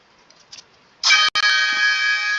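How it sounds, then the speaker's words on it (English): A loud, steady electronic lightning warning alarm tone starts abruptly and holds, briefly cut off once, after faint background noise. "there's the lightning alarm."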